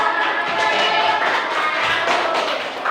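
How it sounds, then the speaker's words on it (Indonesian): A Grade 4 classroom gives the first group a round of applause, a dense, steady patter of many hands clapping together for about three seconds without a break. "kita kasih tepuk tangan yang meriah buat kelompok yang pertama"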